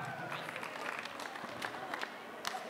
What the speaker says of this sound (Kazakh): Шапалақ ғұрып баласыға.